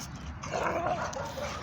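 Two dogs playing together, giving soft yips, whimpers and a muffled bark or two over steady low background noise.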